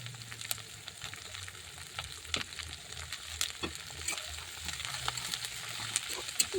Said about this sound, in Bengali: বাঁধাকপিগুলো দিয়ে দিলাম